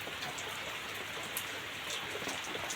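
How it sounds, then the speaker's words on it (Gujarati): Heavy rain pours down in a dense, unbroken hiss with scattered drops pattering on a surface, close and steady, no talking. "બહુ વરસાદ પડી રહ્યો।"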